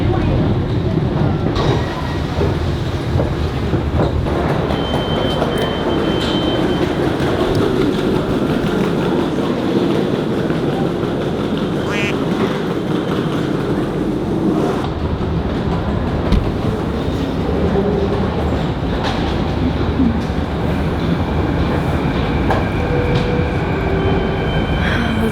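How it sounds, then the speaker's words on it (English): A SkyTrain metro car carries riders along with a steady, loud rumble. Faint clicks and brief squeals of the wheels run through the ride, with a little talk in the background. "So let's go get on SkyTrain."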